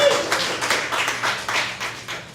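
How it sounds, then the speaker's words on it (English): Community party audience clapping at a neighborhood gathering, a dense, close burst of many hands applauding steadily throughout. "He supports, you can clap."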